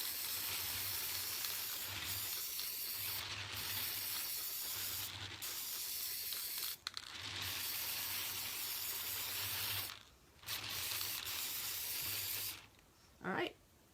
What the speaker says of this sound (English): Spray and turn.